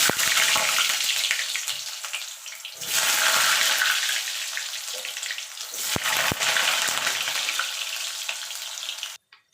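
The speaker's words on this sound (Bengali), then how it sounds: "আলুগুলো ভেজে নেবো লাল লাল করে" Potato pieces sizzle and crackle in hot oil as they fry to a reddish-brown, a steady bright hiss with brief stirring bursts, close and fairly loud, cutting off just before the end.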